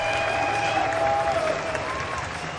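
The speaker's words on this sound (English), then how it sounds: "Crowd, put your hands together for Felipe Gustavo" A crowd at a skateboarding street final applauds a skateboarder, steady clapping and light cheering spread across the whole moment at moderate distance.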